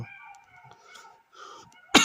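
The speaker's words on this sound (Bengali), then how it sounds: "আমার খুব ঠান্ডা লাগছে এবং কাশি আসতেছে" A man with a cold lets out a single sharp, close cough at the end, after a quiet stretch with faint tonal background sound.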